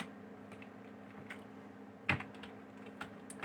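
Keys clatter on a computer keyboard while C code is entered, soft scattered taps with one sharper clack near the middle, close and quiet with no talking.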